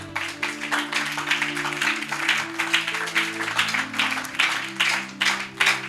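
A church congregation claps together in sustained, dense applause during a French-language Bible teaching service, with steady sustained tones running beneath the clapping throughout.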